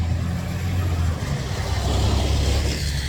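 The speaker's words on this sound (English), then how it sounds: "Hello, loud car." A loud car passes outside, heard as a continuous low rumbling roar that swells and holds steady through the moment with no talk.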